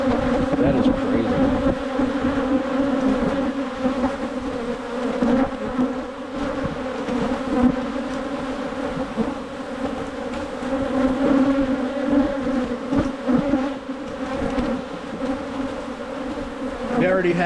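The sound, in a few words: honey bee colony buzzing in opened hive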